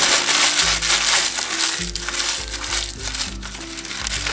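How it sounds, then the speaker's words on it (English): Double-layer liner scrunched up by hand for a Kmart pie maker, loud crinkling and crushing with irregular bursts throughout, close up and alone. "So we scrunch this all up"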